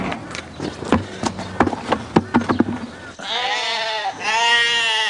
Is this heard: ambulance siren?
no